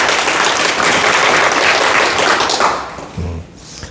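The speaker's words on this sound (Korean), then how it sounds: "큰 박수 부탁드립니다." A lecture audience at a Christmas Sunday special talk bursts into dense, loud applause that holds steady for a few seconds, then thins out and fades, leaving a brief low thump and scattered faint sounds.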